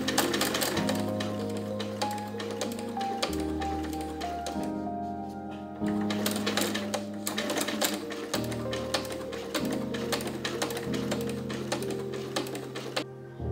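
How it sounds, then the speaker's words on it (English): A sewing machine top stitches through the main fabric and lining of teal underbust corset panels, running in close, rapid bursts of stitching separated by short pauses, with no voices. "I pinned the front panels of the main material and the lining together before I top stitch through both layers"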